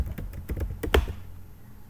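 A command is typed on a computer keyboard in a quick burst of close, crisp keystrokes that stops after about a second.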